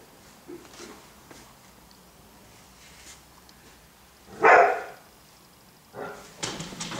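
A golden retriever puppy gives one sharp bark midway, then a few softer yips, during a leash lesson outdoors amid faint rustling and footsteps.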